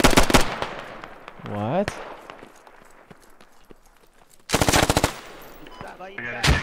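Automatic rifle fire in the Squad tactical shooter, with several loud rapid bursts of shots close by, a brief rising mechanical whine, and a voice speaking briefly between volleys.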